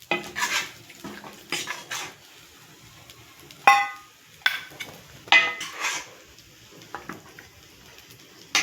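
Chicken curry being served onto crispy dosas, with metal utensils clinking and scraping against pans and plates in separate bursts, some sharp and bright, with quiet gaps between.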